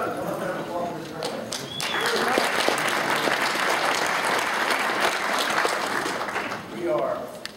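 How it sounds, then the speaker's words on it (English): An audience applauds after a song at a church worship gathering, with steady sustained clapping that swells and fills the room for several seconds, with crowd noise beneath. "I'm going to applaud this girl."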